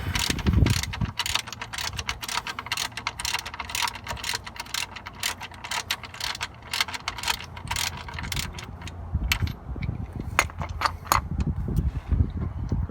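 Ratchet wrench clicking while working on a 2001 VW New Beetle 1.8T during an oil pickup repair: rapid, continuous, close ratcheting in short bursts with brief pauses, loud and with no talking.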